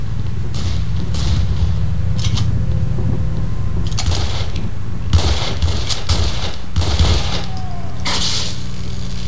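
Gunfire rings out in the video game Condemned: Criminal Origins as a series of sharp, loud shots scattered over a constant background hum, with several bursts close together.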